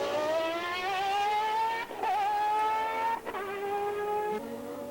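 Formula One cars from 1991, a Benetton and a Brabham, scream past at high revs, engine pitch rising steadily with sharp gear-change breaks, loud and close over track noise.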